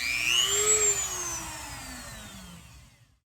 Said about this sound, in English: in my case, I have to enlarge the hole here because my hole is too small for it to fit. So I got my little Dremel tool here.